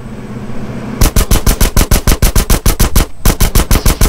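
Loud automatic gunfire in the video game GTA San Andreas, a rapid run of evenly spaced shots that starts abruptly after a quiet moment, pauses briefly, then keeps firing close up.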